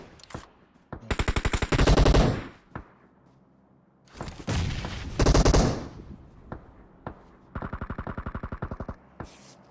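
Rapid automatic gunfire crackles in PUBG Mobile, several loud bursts of close shots separated by short pauses, with a few single cracks between volleys.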